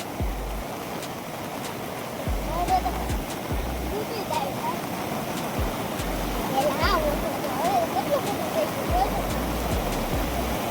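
Canal floodwater after heavy rain rushes toward the Shetrunji river, roaring steadily and loudly with a broad, continuous churn, while low wind gusts thump against the microphone now and then.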